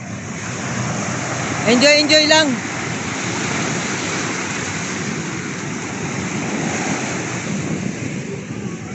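Strong sea waves rush and roar steadily onto the beach at Tanza, Cavite, loud and close under gusty wind, with a brief voice speaking near the start.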